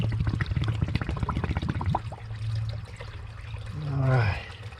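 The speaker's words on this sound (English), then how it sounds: "Fresh water for the canteen." Fresh spring water pours and gurgles into a canteen up close, with a rising filling tone near the end as the container tops up and a voice speaking over it.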